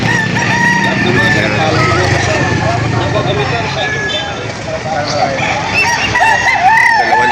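Roosters crow amid the busy chatter of a Lipa auction market, several calls rising over steady crowd voices and background clamor, with people talking throughout.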